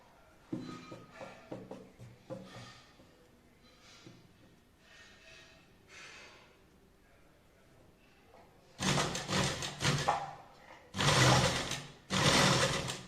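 A sewing machine stitches piping onto a blouse neckline in short bursts, quieter pauses early on, then louder sustained runs of rapid mechanical whirring and clatter close by.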